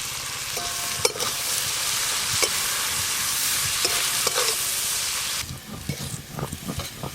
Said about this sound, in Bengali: প্রথমে চিংড়ি মাছ ভাজছো?